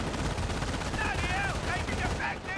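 MG42 machine guns rattle in the World War II strategy game Company of Heroes, sustained loud bursts of automatic fire overlapping with other battle noise, with a voice talking over part of it.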